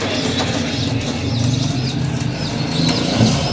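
Pigeon bred for flying, handled at a Karachi bird market, beats its wings in a steady close flurry over a constant bed of market hum and crowd noise.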